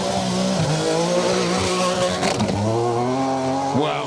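A Vauxhall Chevette rally car, crewed by Nigel Kay and Fred Roberts, races hard along a gravel stage of the Trackrod Rally Yorkshire. The engine revs up and drops back repeatedly, and gravel crunches and tyres scrabble close by.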